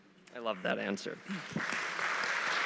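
Audience applause breaks out at a live author conversation, a broad wash of clapping that rises right after a short spoken line and carries on steadily to the end.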